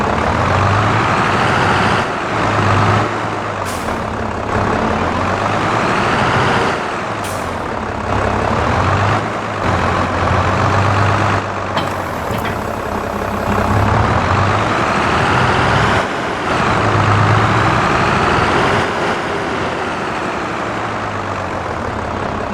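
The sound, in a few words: tractor engine in video game Farming Simulator 22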